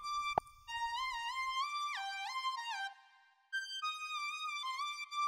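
Serum software synthesizer lead playing the GTA San Andreas melody, a bright, buzzy tone with pitch bends and slides, one brief percussive click near the start and a short gap midway, alone and fairly quiet.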